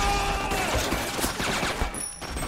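Machine gun fire rattles in 50 Cent: Blood on the Sand, a dense, continuous spray of rapid shots with scattered louder cracks, close and loud throughout the short burst.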